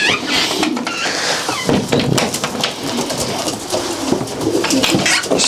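Pigeons coo softly among a busy chorus of wing flutters, scratching and scuffling, with a faint patter like rain in the background.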